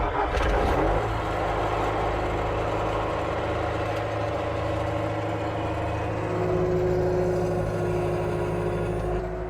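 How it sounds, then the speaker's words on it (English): A skid steer's engine cranks and catches early on, then settles into a loud, steady idle with a low rumble close by. "So let's get the skid steer out."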